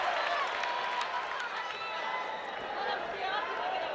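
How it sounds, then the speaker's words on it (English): An arena crowd at a Total Combat MMA fight between Masakatsu Ueda and Kevin Belingon roars steadily during a grappling exchange, a broad, sustained swell of voices filling the whole moment. "The roars went up, or the concern, I should say, was clearly audible"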